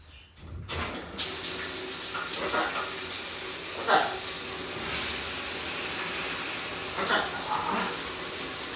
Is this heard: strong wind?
no